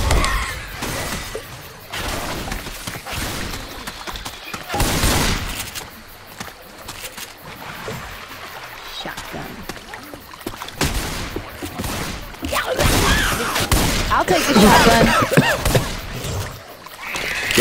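Shotgun blasts and chaotic combat noise in Left 4 Dead 2 come in loud, irregular bursts over about eighteen seconds, with heavier clusters near the start, middle and end.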